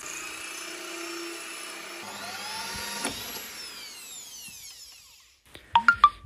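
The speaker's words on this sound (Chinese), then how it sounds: "我这个打孔呢是开的12毫米的孔，打的稍微大一点。" Power drill boring a 12 mm hole in tile with a glass-and-tile bit, a steady whining drone that shifts pitch as it works, followed by a few sharp metallic knocks at the end.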